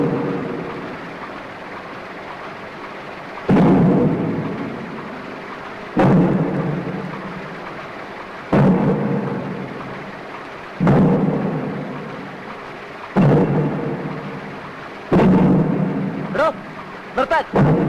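A pile driver pounds at a construction site next to a residential colony. Loud, booming strikes come about every two and a half seconds, and each one rolls off into a rumbling decay, with some quicker knocks near the end.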